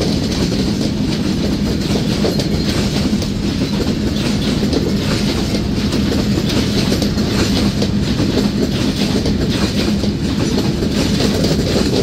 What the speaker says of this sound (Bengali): ব্রডগেজের কিং বনলতা এক্সপ্রেস।